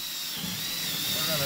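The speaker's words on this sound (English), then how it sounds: "we are going to drill a hole through this" Drill boring a hole through the cap of a ditty bank pole, a brief, faint, steady whine with a low rumble beneath.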